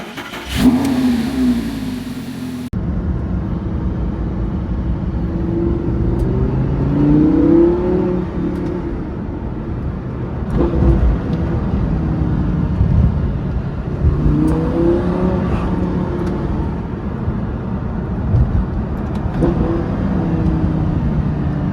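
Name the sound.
Lamborghini Gallardo LP550-2 engine starting and revving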